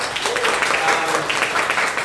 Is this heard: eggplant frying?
no